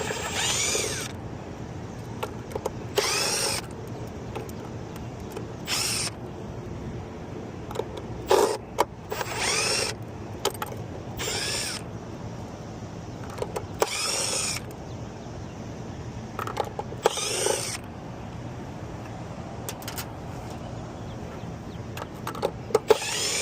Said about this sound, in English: you want to remove these bolts on top, and that allows the fan shroud to come off.